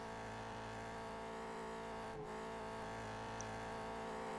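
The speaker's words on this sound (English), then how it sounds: "you can hear the engine is revving at top maximum revs pretty much all the time" A race car engine in the Test Drive: Eve of Destruction driving game holds at near-maximum revs as a loud, steady, continuous drone with no pauses and no voices.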